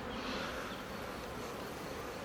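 Bees buzz at a beehive in a dense, continuous drone that stays loud and steady from start to finish, with no voices.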